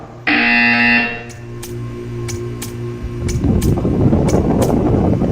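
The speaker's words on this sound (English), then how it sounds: "When you hear the buzzer, stare at the art." A loud electronic buzzer tone from the video game Portal 2 sounds for about a second, followed by a series of sharp clicks over a rising noisy hum.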